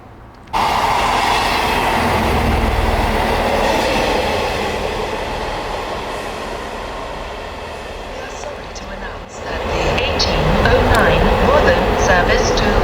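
Inside a regional train heading toward Prudhoe, a steady rolling rumble of wheels on rails fills the carriage, with a brief dip partway before the running noise picks back up, close and continuous.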